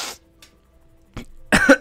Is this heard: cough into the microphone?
yes